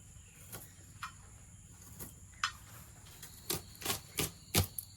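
A knife clicks and taps on a board in sharp, irregular strokes that come faster toward the end while a spiny gourd (kantoli) is cut, against a quiet background with no talking.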